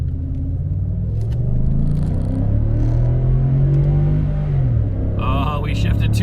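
A 2013 Ford F-150 pickup launches hard from a brake stand in manual mode, its engine roaring loudly as pitch climbs steadily through the rev range before dropping at a shift, with a voice briefly heard near the end.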